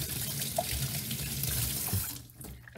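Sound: hot water running over a beer gun nozzle

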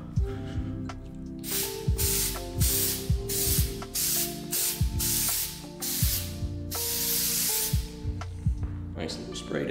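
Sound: aerosol spray coating headlight

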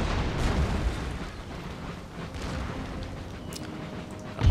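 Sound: cannons firing in video game Empire: Total War

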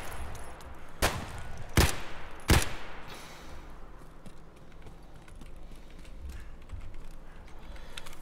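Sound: gunfire in the video game Escape from Tarkov

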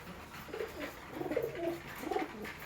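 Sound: male pigeons cooing in loft

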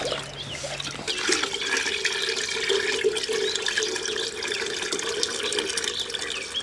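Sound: pouring liquid manure into watering can of water

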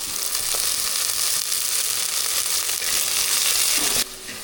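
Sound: onions sautéing in a pan for fish curry

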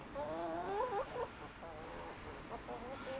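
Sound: chicken clucking

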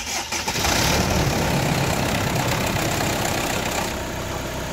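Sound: car engine being started and idling

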